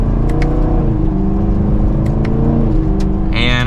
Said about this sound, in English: But let's do one last acceleration.